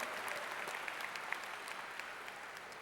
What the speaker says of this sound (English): let's give those parents a round of applause